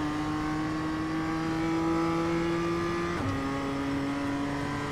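A BMW M2 engine drones loud and steady from inside the car on the Okayama circuit. Its pitch climbs, then drops sharply on a quick upshift and carries on at a lower note.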